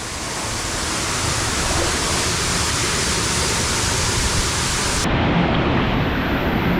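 Water thunders down a rocky waterfall in a loud, continuous broadband roar heard up close, its tone shifting slightly and dulling near the end.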